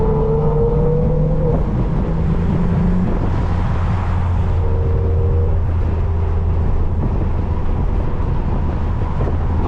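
A six-speed Nissan Altima's engine hums and revs from inside the car while driving, a steady loud drone with shifting pitch and no talking.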